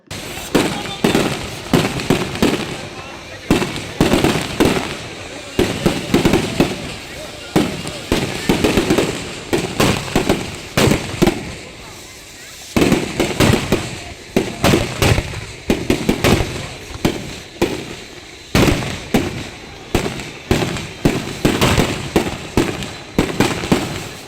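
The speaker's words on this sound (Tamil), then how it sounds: "திருவிழாவை ஒட்டி பல லட்சம் ரூபாய் மதிப்பிலான வான வேடிக்கை நிகழ்ச்சியும் நடைபெற்றது" Large aerial fireworks display at a temple festival in Namakkal, with dense, continuous bursts and crackling pops booming close and loud for over twenty seconds.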